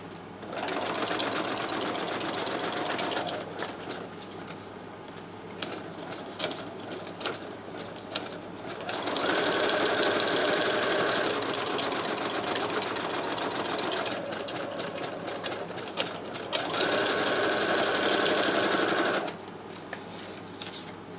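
A sewing machine stitching around a paper page envelope for a junk journal, running in several long steady bursts with brief pauses, close and loud.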